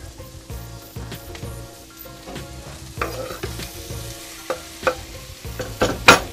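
Food frying in a pan with liquid smoke added, heard as close sizzling and stirring with rhythmic scraping strokes, and a louder burst of hiss near the end.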